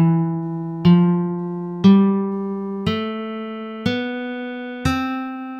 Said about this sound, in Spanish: Ahora vas a escuchar la escala de Do mayor.